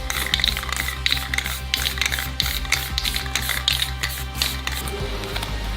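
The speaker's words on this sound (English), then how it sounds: "A new coat of black paint covers the repaired enclosure" A repaired JBL speaker enclosure gets a coat of black spray paint, the can hissing in repeated short bursts with rattly taps between them, close up and alone.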